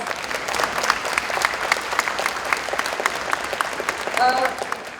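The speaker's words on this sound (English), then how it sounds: "A big round of applause" Audience applause at a vegetarian congress in the Middle East: dense, steady clapping from a hall crowd that runs throughout, with a brief voice or whistle-like tone near the end.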